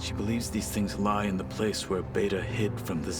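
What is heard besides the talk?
No distinct noise like a dog, phone or traffic.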